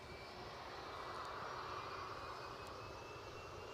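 Rolls-Royce RB211 jet engines idle on an airliner near Edinburgh airport, a steady, loud, continuous roar and whine that holds level throughout with no talking.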